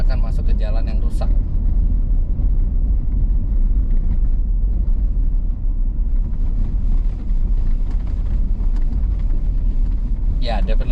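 Road noise inside a Toyota Innova fitted with modified suspension as it drives over a damaged road: a continuous low rumble with wind noise, loud and unbroken, with a few brief higher clatters.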